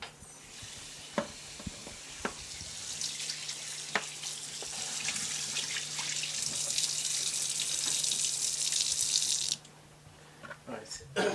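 Beef for a Nigerian stew is rinsed under a running kitchen tap, a steady broadband water rush lasting most of the clip with a few brief knocks and clatters, stopping abruptly near the end.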